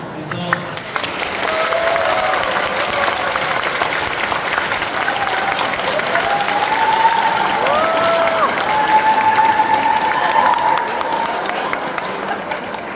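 Audience applauding at a parish catechists' training session in a church, steady clapping from a crowd sustained throughout, fairly loud with some scattered voices mixed in.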